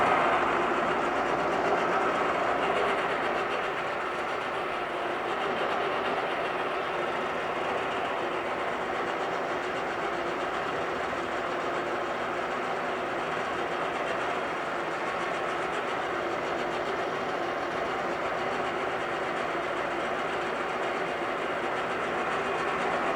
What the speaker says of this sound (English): I'll go ahead and fire this one up here. Let it warm up here.